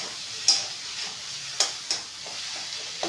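A paneer mixture seasoned with salt and sugar fries in a pan, a low continuous sizzle punctuated by a handful of sharp spatula clicks against the pan.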